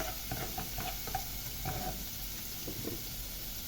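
Garlic fries in oil in a pot with a soft, steady sizzle and occasional light crackles and stirring taps, faint and close.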